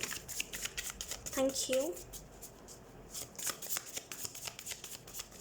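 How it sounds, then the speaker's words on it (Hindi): Tarot cards shuffled by hand in quick soft riffling bursts, close and fairly quiet, with someone speaking briefly over them. "सबसे पहले हम कार्ड शफल कर लेते हैं"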